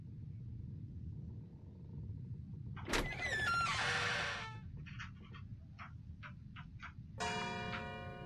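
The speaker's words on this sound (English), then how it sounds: "Gee, the doors are loud as hell now." Creaky doors swing open in a Roblox murder mystery game, sharp drawn-out creaks and groans over a low ambient rumble, followed by a few squeaky ticks and a final long creak, fairly loud with no talking.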